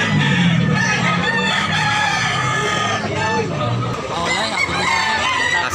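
Roosters and other fowl crow and cluck at a poultry place in Tabunok, Cebu, with several birds overlapping continuously and fairly close amid a busy crowd of voices.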